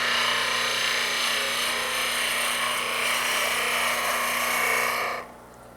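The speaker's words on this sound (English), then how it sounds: "This is a little flatter spindle gouge, so it's easier to rest the bevel right on the workpiece lightly." A flat spindle gouge cuts a wooden workpiece spinning on a lathe, giving a steady, loud shearing hiss that runs unbroken and then stops abruptly near the end.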